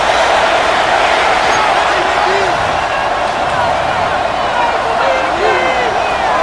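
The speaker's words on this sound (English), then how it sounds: "The crowd making their presence felt." Steady roar of a stadium crowd in the football game Madden 26, a dense, continuous wash of noise from the stands with scattered shouts, loud throughout.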